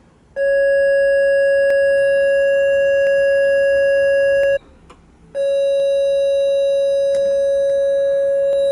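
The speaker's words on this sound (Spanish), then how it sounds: "Square wave. Y veremos cómo suena." A synthesizer plays a steady square wave tone, loud and buzzy with strong odd harmonics, holding for about four seconds, cutting out briefly, then resuming just as steadily.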